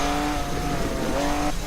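A Lamborghini Aventador SV revs hard in a racing video game, its engine note holding a loud, steady tone that dips briefly and climbs again, with no voices over it.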